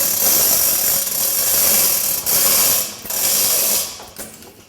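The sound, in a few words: ratchet tightening bolts on a frame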